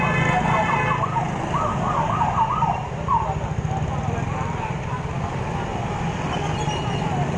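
Rescue vehicle siren sounding in heavy traffic after a collision between two motorcycles, a wailing tone in the first seconds that fades, over a dense rumble of traffic and voices.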